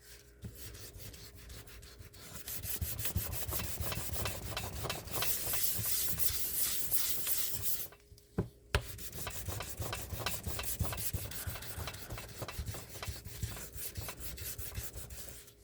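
Steady rhythmic rubbing and scraping of sanding resin, continuous for most of the clip with a brief pause and a couple of knocks midway.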